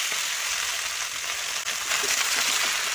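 Malabar spinach sizzles steadily in hot oil with five-spice tempering, a dense, close frying hiss with a brief dip partway through.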